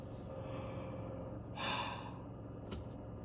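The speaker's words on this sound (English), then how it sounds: "I'm yawning so much." A single drawn-out, breathy human yawn swells up in the middle and then fades, heard close against a steady background hum.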